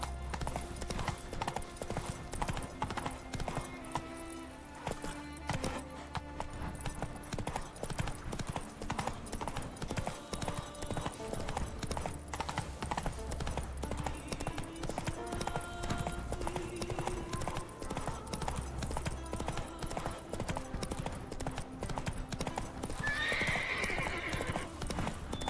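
Roach the horse gallops through The Witcher 3 with rapid, steady clip-clopping hooves over a low game soundtrack, and a brief neigh near the end.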